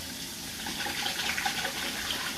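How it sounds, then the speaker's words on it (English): Hot water runs steadily from a kitchen tap while hands are washed during cinnamon roll baking, a close, continuous rushing splash lasting the whole moment. "Wash my hands real good in some hot water."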